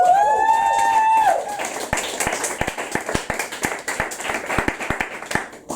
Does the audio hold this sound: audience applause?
yes